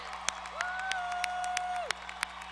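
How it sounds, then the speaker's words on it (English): Graduates at the Texas A&M-Corpus Christi 2019 spring commencement get scattered, sparse claps from a large hall audience, with a long whistle rising over them before fading. "Let's give them one more round of applause."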